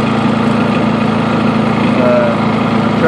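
A freshly started tractor engine runs at a steady idle, a loud, continuous low drone with an even mechanical hum and no pauses.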